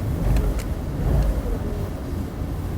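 A Mercedes-AMG SL 55 engine in comfort mode runs with a steady low rumble that builds slightly as it accelerates, fairly close and continuous throughout.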